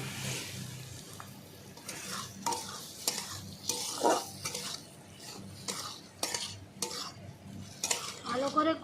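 Spices, fried potatoes and chopped tomato stir-fried in a pan for a silver carp curry, with repeated scraping and clanking of a spatula against the pan and a faint sizzle, close and steady with no talking.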